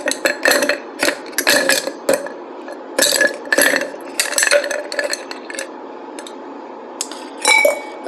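An ice cube clinks and rattles against a mixing glass as a mocktail is chilled, in bright irregular bursts of knocks and stirs, sometimes fast and clustered, then sparser with brief pauses, close and loud.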